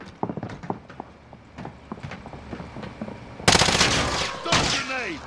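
Loud crackling bursts from a homemade firework gun fire in a rapid cluster near the end, after a stretch of scattered sharp pops and knocks.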